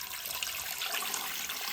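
About a litre and a half of water is poured into a pot while preparing a Kazakh jelly dish, a faint, steady splashing stream heard alone at low volume.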